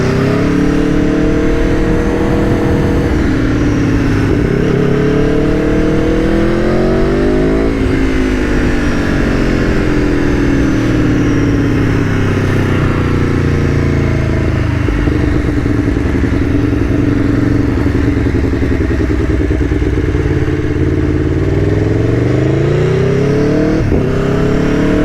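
An Aprilia Tuono V4 1100 motorcycle engine revs up through the gears, loud and close, rising in pitch again and again with quick shifts between, sustained throughout with no talking.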